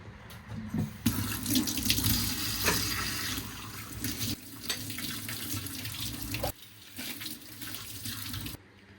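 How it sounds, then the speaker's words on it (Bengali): Dishes left over after a meal are washed under a running kitchen tap, with steady water flow and clatter of plates and utensils, briefly pausing a couple of times, close and fairly loud. "আর এই যে খাওয়ার পর জমনো থালা বাসন, তো এগুলো এখন সব ধোবো।"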